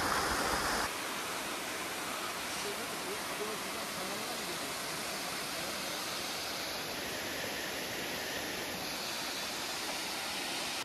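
A mountain waterfall beside a campsite gives a steady, broad rushing roar that fills the scene evenly and continuously from start to finish.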